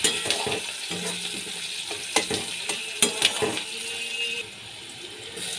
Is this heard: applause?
no